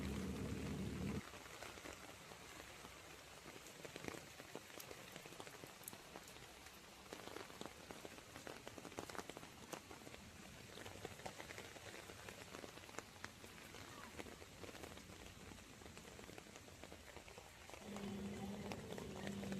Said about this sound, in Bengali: বৃষ্টির আওয়াজ তো তোমরা পাচ্ছ